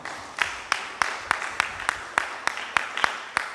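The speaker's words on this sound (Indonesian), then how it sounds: "Tepuk tangan untuk Tuhan." Church congregation clapping during a Sunday worship service, a sparse, irregular run of about a dozen distinct claps spread across the moment, moderately close in a reverberant hall.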